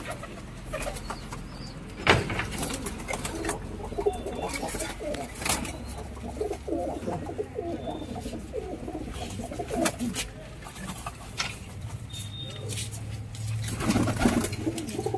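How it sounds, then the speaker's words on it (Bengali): Giribaz pigeons in a loft coo in soft, repeated low rumbles close by, with occasional wing flaps and faint voices in the background. "সব থেকে আমার পুরোনো পায়রা দেখাই, এখনো পায়রাগুলো উঠছে, রানিং উঠছে এই পায়রাগুলো"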